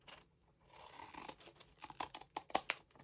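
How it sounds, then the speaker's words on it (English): Scissors snipping through folded paper for an art zine, quiet and close, starting with soft rustling and building into several sharp, separate cuts near the end. "I'm going to cut it"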